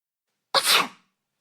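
A single sharp, loud sneeze bursts out of silence and fades within half a second.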